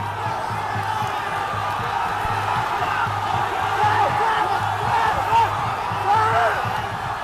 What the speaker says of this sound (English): Crowd at the back going absolutely crazy.